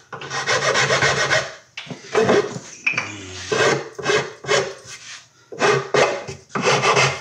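A coarse rasp files the corners off a rounded, flat piece of wood in long rough strokes with short gaps between them, close and loud, with no voices.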